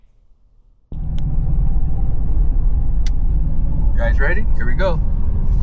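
Ford F350 Super Duty Tremor truck with a 7.3-liter engine pulls away, its loud, steady, low rumble taking over after a quiet start and running continuously while people talk briefly over it.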